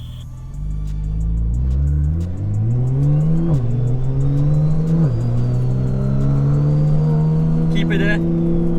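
A 1500 hp Porsche Turbo S and a 1500 hp Audi R8 in a race, engines roaring close and loud as they accelerate hard through rising gear pulls with brief shift dips, a voice speaking briefly near the end.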